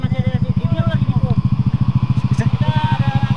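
A motorcycle engine throbs in a fast, even pulsing beat during a night ride up to Puncak, close and loud throughout with voices talking over it.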